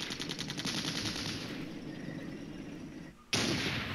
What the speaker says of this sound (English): There's a shot by our tank